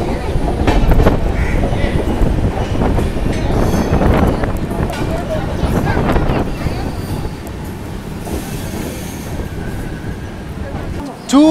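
Visakha Express arriving at Palasa railway station, loud close wheels clattering over rail joints in a steady rumble that eases toward the end, with a voice speaking over it.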